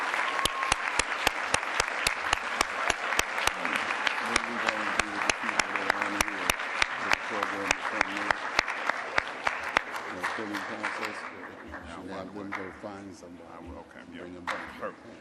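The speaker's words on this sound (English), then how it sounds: "give yourself a round of applause" A crowd at a university freshman investiture ceremony claps enthusiastically, dense sharp claps sustained for several seconds before thinning out, with a voice speaking over the applause.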